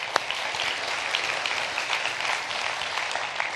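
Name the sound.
audience applause in a theater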